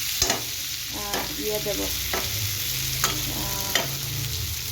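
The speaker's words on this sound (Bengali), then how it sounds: "গরম মশলা, একটু তাই দিয়ে একদম এখন কষাচ্ছি আলুগুলোকে" Potatoes sauté with garam masala in a hot pan, sizzling steadily under repeated scraping strokes of a spatula, with a brief spoken word partway through.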